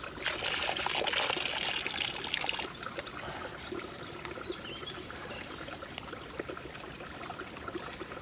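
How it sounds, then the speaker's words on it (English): Rainwater drips and trickles into a container at a woodland bushcraft wild camp, a steady close splashing stream that turns to lighter irregular dripping partway through. "it's dripping out, but I don't know whether that's leaking through or just from the outside"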